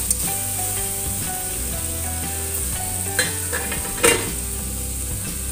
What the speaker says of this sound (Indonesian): Cukup seperti ini aja menumis sayurannya.